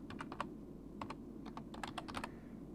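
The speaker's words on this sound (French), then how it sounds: "je tapote au clavier" Quick bursts of key taps on a computer keyboard, irregular clusters with short pauses, close by over a low steady hum.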